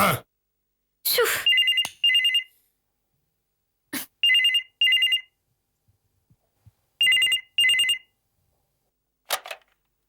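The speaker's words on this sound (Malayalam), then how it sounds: "ഫോൺ അടിക്കുന്നത് കേൾക്കുന്നില്ല, ഒന്ന് പോയി എടുത്തൂടെ?" A telephone rings in a domestic scene from a Malayalam TV comedy, sounding in repeated pairs of bright electronic trills separated by pauses, loud and close, with a few sharp knocks between the rings and no talk over them.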